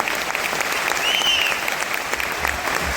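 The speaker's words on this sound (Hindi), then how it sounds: "ऐसे ग्रेट अप्लायंस के लिए एक बार जोरदार तालियां" Dense, steady applause from an audience at a Modicare motivational success-story event fills the room, loud and close throughout, with a faint voice briefly rising above the clapping.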